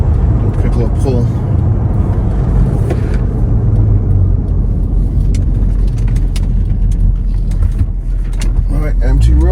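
An Acura TL with a mid muffler delete and Vibrant resonators pulls hard on an open road, its exhaust droning loud and close from inside the car, while people talk over the engine.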